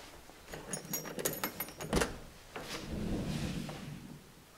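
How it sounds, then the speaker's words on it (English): Dining room doors in a Control4 smart home swinging open, a run of light clicks and rattles with one sharper knock in the middle, then a softer rustling movement, close by and fairly quiet. "that's literally from me opening these doors"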